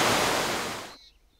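Creek water flowing at Mill Creek, on the divide above Deer Creek: a steady, dense rush of running water that fills about a second, then cuts off abruptly to near quiet.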